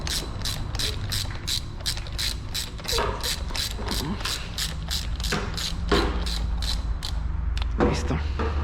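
Screws being run into a Yamaha FZ 2.0 motorcycle engine by hand with a ratchet, giving a steady, close run of rapid clicking pawl strokes that continues throughout with a few brief pauses.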